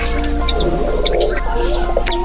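Racing pigeons arrive at a loft after a 124 km training flight, with repeated high chirps and soft cooing from several birds close by over a steady low hum, without any talk.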